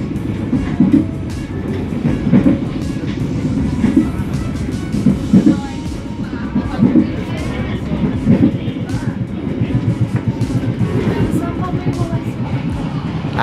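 The Tegal Bahari train runs through Cirebon Prujakan station without stopping, a loud steady rumble with rhythmic clacking of wheels over rail joints, heard from close by as it passes.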